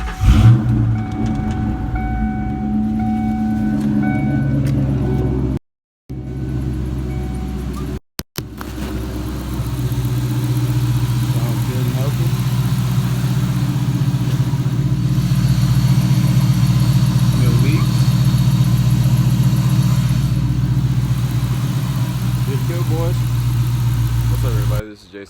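Ford Mustang engine idling after being started during a tune-up in a garage, a steady low rumble running almost the entire time with two brief dropouts, and someone talking over it.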